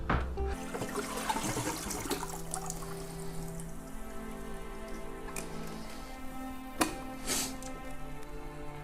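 Water drains from a fish tank into a bucket in a continuous trickling, splashing rush, fairly quiet and unbroken, with a couple of brief louder splashes.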